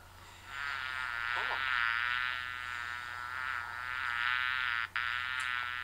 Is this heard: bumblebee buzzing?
yes